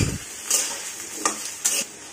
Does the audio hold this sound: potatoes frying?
yes